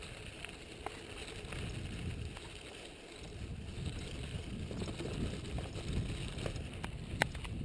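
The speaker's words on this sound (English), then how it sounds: "Cool wind here, Dany, huh?" Wind rushes over the microphone during a seaside mountain bike ride, a steady low buffeting roar that swells and eases with no talking.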